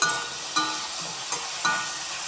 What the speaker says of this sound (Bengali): আলুটা একটু ভেজে নিয়ে নুন হলুদ দিয়ে দিয়েছি।